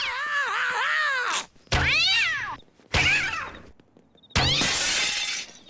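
A cartoon cat is launched from a cat launcher, with loud, wavering meows and yowls followed by sharp bursts of shattering, breaking crashes, alternating in several close, loud segments.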